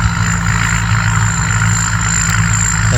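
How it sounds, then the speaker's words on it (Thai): A combine harvester's engine runs in a Thai rice field with a tuned fuel pump, giving a loud, steady, continuous drone with a constant low throb throughout, and no voices. "เสียงเครื่องยนต์นี่ แหม่ดังลั่นทุ่งดีครับ"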